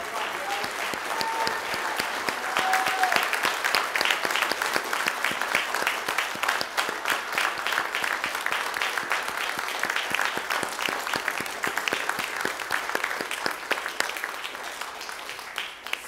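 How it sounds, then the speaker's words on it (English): A congregation applauds and gives a standing ovation for veterans at a Veterans Day service, sustained loud, dense clapping with crisp individual claps throughout, steady for the whole stretch with faint crowd murmur beneath. "let's give a resounding applause and standing ovation to all those who served and sacrificed for our freedom this morning."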